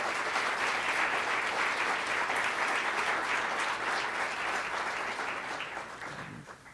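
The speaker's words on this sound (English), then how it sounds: "So let's just give them another round of applause" An audience at a memorial scholar lecture on the Holocaust gives a round of applause, a dense, even clapping heard from a distance that holds steady and then fades away near the end.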